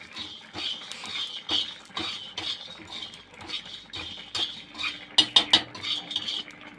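A metal spatula or spoon scrapes and clinks repeatedly against a pan as cumin seeds dry-roast in a home kitchen, in an irregular stirring rhythm at moderate volume, with a few sharper taps near the end.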